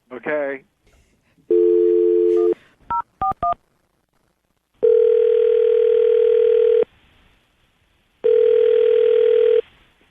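Telephone call tones: a short burst, a few keypad dialing beeps, then long repeating ringback tones separated by silences.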